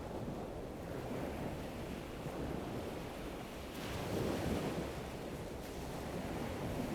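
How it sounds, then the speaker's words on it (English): Gentle ocean waves wash in and out on a beach in a steady, soft roar, with wind buffeting the microphone and no one speaking. "Maybe you want to listen for the sounds of the gentle waves moving in and out"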